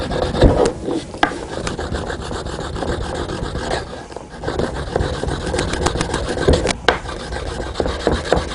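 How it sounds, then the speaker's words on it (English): Wax being rubbed by hand into the pores of wood as it warms and melts, a loud, continuous close-up scrubbing rasp with occasional sharper scuffs and no speech. "you're just basically rubbing that wax into the pores of the wood and melting it down as it heats"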